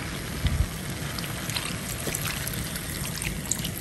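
Water poured into a cooking pot for fish, a continuous light trickling and splashing heard close and at moderate level, with a few soft clunks near the start.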